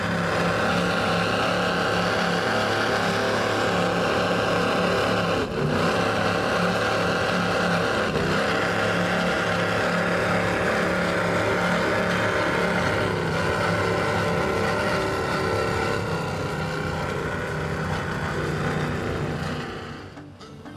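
Cigarette 39 powerboat with twin Mercury Racing 700 engines and Whipple Stage 4 superchargers, about 900 horsepower per side, rumbling loud and steady close by for about twenty seconds before easing off at the end.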